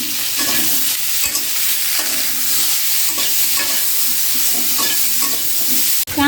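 Prawns stir-fried with spices, turmeric and chili powder, a loud continuous sizzle with rhythmic scraping strokes of the spatula across the pan, close and without speech.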